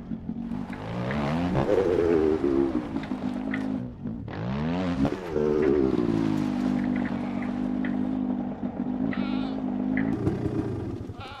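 A motorbike engine in the survival game SCUM runs steadily and loudly throughout, with revs rising and falling near the start before settling into a sustained drone, briefly dropping out and then revving back up.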